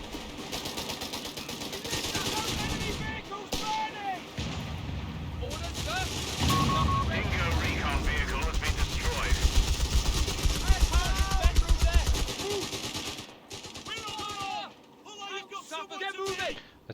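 Machine gun fire and battlefield explosions in Company of Heroes 3, with bursts of gunfire and booming blasts layered under ongoing voices across the scene.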